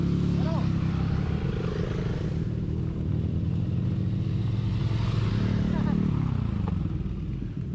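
Motorcycles, including lighter R15s, struggle past one after another on a rough offroad trail, their engines droning and revving steadily from nearby, with people talking throughout.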